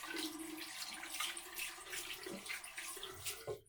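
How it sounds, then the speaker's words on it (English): Hands rinsed under a running bathroom tap during an evening skincare routine, a close, steady splash of water that cuts off abruptly at the end. "Then I'm going to rinse my hands off."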